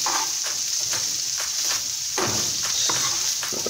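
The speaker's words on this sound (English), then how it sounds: "So we're just giving it one last stir." Chicken sizzles loudly in a frying pan with a constant bright crackle, while a spatula stirs through it in a rhythm of repeated scraping strokes roughly every half second.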